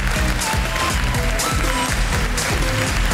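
Studio audience on a Turkish TV quiz show applauding as a band enters, clapping mixed with loud rhythmic music with a strong bass beat.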